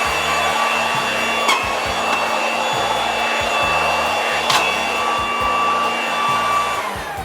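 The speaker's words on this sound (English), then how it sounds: "Blower Vac is here. 1900 watts of pure electrical grunt." A 1900-watt Blower Vac vacuum cleaner runs loudly and steadily, a constant close motor roar with a high whine and a rhythmic low pulsing throughout.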